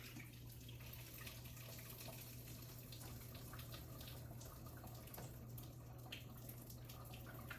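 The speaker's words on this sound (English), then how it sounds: "I am going to strain this water off of here real quick" Water runs steadily into a kitchen sink as a pot is strained, a quiet, even rush over a low background hum.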